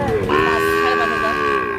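A Sahiwal bull calf at a busy rural cattle market in Bangladesh gives one long, loud, drawn-out moo that sits close and fills the moment against a background of market chatter.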